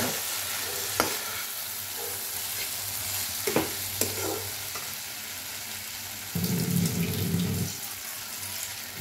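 Ground spices, including Kashmiri chili powder, fry in a pan for a cabbage and fish head dish, with a stirring scrape and steady sizzle that swells louder once a little water goes in.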